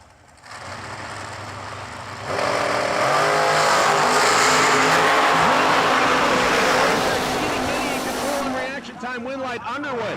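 Blown dragster at a drag strip roars up from a low idle into a loud, sustained engine blast for several seconds, then fades as it runs off, with an announcer talking over the racing.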